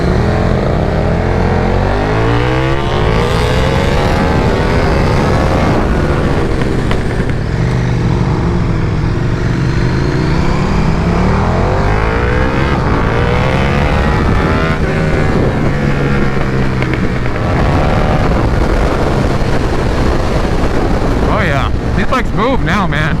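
A 2022 KTM Super Duke R or Aprilia RSV4 with a BT Moto flash roars along at speed, the engine note rising and falling through gears under heavy wind buffeting, loud and close from the rider's position, with a voice talking at times.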